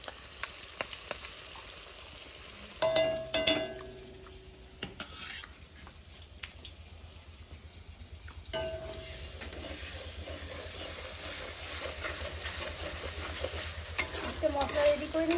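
Onions frying in a pan, a soft steady sizzle broken by a few louder stirring scrapes, close but fairly quiet, with no talk.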